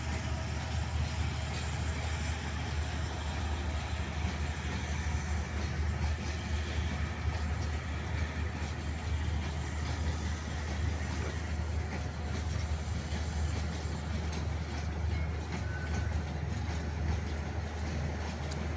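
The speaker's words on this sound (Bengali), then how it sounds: "কত বড় ট্রেন দেখুন ভাই, 18টা বগি নিয়ে চলে যাচ্ছে" A long Bangladeshi passenger train of 18 coaches rolls steadily past, a loud continuous rumble and rattle of wheels on track lasting throughout with no break.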